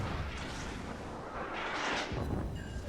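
Heavy naval gunfire from a cruiser in the World of Warships battle game, with deep rumbling booms and a rolling salvo roar that fills the scene, loud and unbroken.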